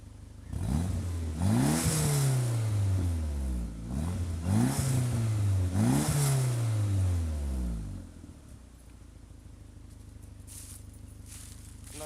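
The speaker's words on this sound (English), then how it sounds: "I think my turbo seals are definitely going out because it just smokes when I rev it" A 1997 GSX car engine, its turbo seals failing, revs up in three or four strong rising-and-falling bursts, then drops back to a low, steady idle for the last few seconds, with no talking.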